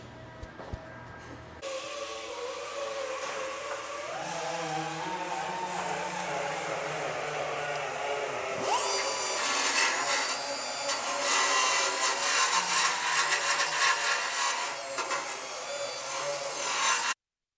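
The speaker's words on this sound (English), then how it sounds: "Air file." An air file grinds and rasps against the sheet-metal floor of a 1968 Dodge Charger under restoration, a continuous scraping drone that grows louder and brighter partway through.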